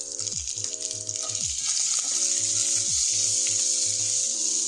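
Coconut, sliced onions, garlic cloves, ginger slices and green chilies fry in a pan for an Indian-style crab soup, a steady close sizzle under tuneful background music.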